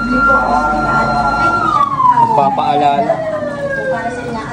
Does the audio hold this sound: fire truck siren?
yes